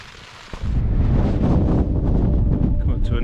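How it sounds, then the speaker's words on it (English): Strong wind buffets the microphone at a hilltop viewpoint, a sudden loud rumbling gust that stays heavy and roaring throughout. "It's going to be quite windy up here though"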